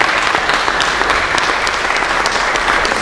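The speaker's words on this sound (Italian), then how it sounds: "e poi un altro applauso, me lo dovete fare, vi prego" Sustained applause from an audience at a First World War centenary commemoration, dense steady clapping filling the room for three seconds without a break.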